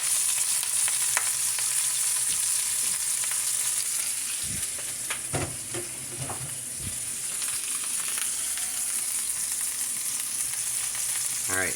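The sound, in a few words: pokeweed frying in bacon grease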